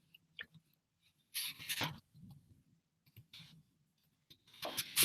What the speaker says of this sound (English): That's my big finger typing.